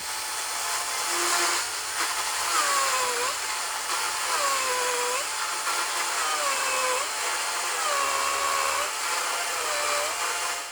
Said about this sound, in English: it can easily cut through 290 millimeter thick tree trunks in no time